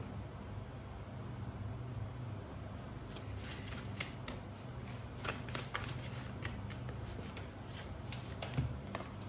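Tarot cards are shuffled by hand close up, giving a steady stream of soft papery riffles and flicks over a faint background hiss.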